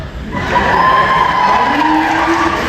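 A cosplay competition audience at a Sonic Expo applauds and cheers loudly after a contestant is introduced, a continuous wash of clapping and shouts with a held whoop rising through it.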